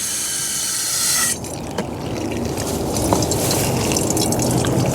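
Water poured into a Greenstalk vertical planter, a steady rushing stream that softens and spreads after the first second into trickling and dripping as it runs down through the tiers.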